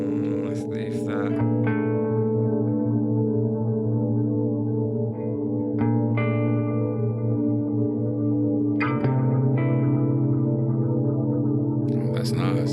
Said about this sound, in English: now I'm using an effects block on its own here to get the prime chorus